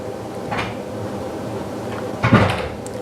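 Doors in a college dorm open and close, giving two soft thuds about two seconds apart over a steady room hum.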